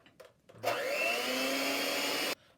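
An electric mixer beating egg whites gives a steady, loud motor whir that starts abruptly, runs for nearly two seconds with a slowly rising pitch, then cuts off, with faint knocks before it.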